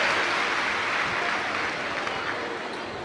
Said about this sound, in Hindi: एक बार जोरदार ताली बजाकर उनका भी स्वागत वंदन